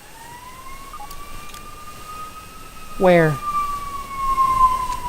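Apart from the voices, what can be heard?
ambulance siren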